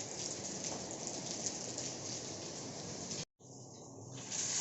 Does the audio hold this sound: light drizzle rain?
yes